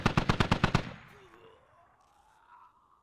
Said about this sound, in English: Oh, one SKS shot and he's down